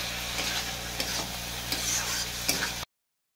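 Cumin, coriander and black pepper powders stir-fried together in a pan for a raw prawn and jackfruit curry, giving a steady close sizzle with scraping stirs at a regular pace, no talking.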